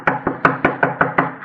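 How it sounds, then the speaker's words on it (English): Knuckles rap on a flimsy shack door built of paper, paste and wire, eight quick, evenly spaced knocks, close and crisp against a quiet backdrop. "I knocked politely."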